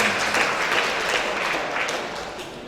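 Steady audience applause at an evening ceremony honouring a national hero in NTB, Indonesia, a dense wash of many hands clapping at even strength throughout, with no voices on top.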